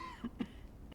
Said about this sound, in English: okay, he coughed